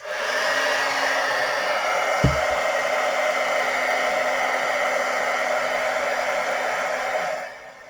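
A heat gun blows steadily on a label to loosen its glue, with a loud, constant whooshing hiss, close by, and a brief click partway through before it shuts off near the end.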